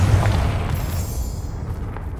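A Confringo blasting spell explosion in Hogwarts Legacy, the video game, lands as a heavy booming burst that rumbles low and slowly fades over a couple of seconds, loud and near with a crackling tail.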